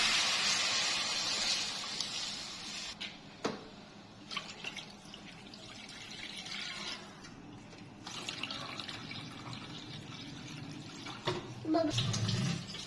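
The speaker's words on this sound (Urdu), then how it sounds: "پین لے لیا، اس کے اندر ہم 3 گلاس پانی کے شامل کر دیں گے۔" Water is poured from glasses into a cooking pan for plum chutney, with an uneven splashing, trickling pour and a few sharp drips and clinks, and a voice speaking briefly over it.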